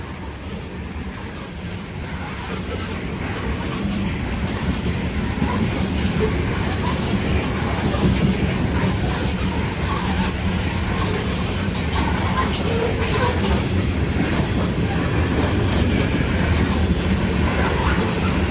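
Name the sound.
coke freight train passing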